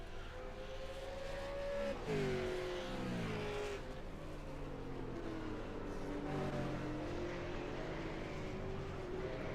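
Race cars roar around Mid Ohio in an online racing simulator game, with a steady engine drone and rising and falling gear-change pitch sweeps as cars accelerate and pass.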